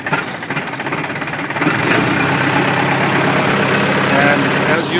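A Morooka tracked carrier's engine idles with a rough knock, then rises and holds steady as throttle is applied; a voice is faintly present underneath.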